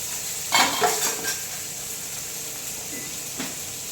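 Crushed garlic, onion and tomato sizzle in a hot pan, a steady close frying hiss broken by a few scraping stirs of a spoon against the metal, with no talking.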